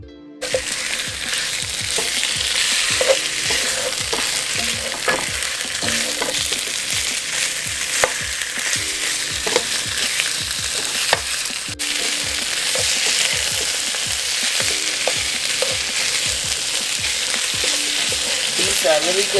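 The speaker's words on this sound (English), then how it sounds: "You just want to saute for only about" Sliced beets with minced ginger sauteing in a hot pan, a steady close sizzle with scattered clicks and scrapes of stirring throughout, no voices.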